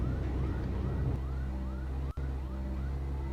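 A police siren in a Roblox driving game wails in rising, repeating sweeps over a low, steady engine hum, with a brief sharp click partway through.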